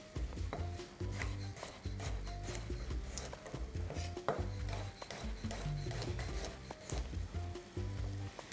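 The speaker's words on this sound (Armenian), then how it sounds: "Պղպեղի հետ նաև սխտոր եմ շերտատում, սխտոր և գազար։" A knife slicing garlic and carrot along with peppers on a cutting board, steady rhythmic chopping thuds and crisp cuts repeating close up for several seconds, with a faint sizzle in the background.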